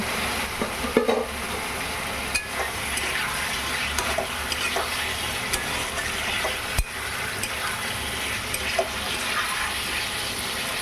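Tomatoes stirred into a frying pan for a fish curry sizzle under repeated clinks and scrapes of a spoon, a steady close hiss with occasional sharp knocks against the pan.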